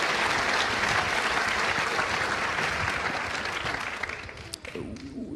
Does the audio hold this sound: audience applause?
yes